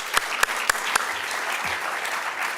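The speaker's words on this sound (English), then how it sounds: "I'll clap to that" Applause from the audience at a bar association litigation awards dinner: a few sharp, distinct claps at first, followed by a steady wash of clapping from the room that holds at an even level to the end.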